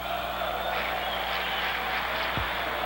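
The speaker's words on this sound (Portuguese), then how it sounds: "A torcida do Botafogo é pequena, mas faz barulho aqui no Maracanã." Botafogo supporters cheer as a broad, steady roar filling a football stadium, the Maracanã in Rio, during a 1998 match against Corinthians, sustained throughout with no breaks.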